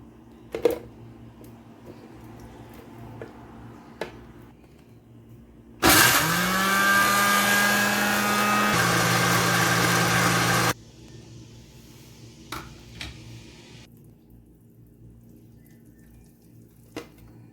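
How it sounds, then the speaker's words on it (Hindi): An electric grinder blends mango into pulp in a kitchen with a loud, whining motor that starts abruptly, settles into a steady hum, drops slightly in pitch, and cuts off after about five seconds, with quiet kitchen sounds before and after. "हम इसको ग्राइंडर में इसका पल्प बना लेते हैं"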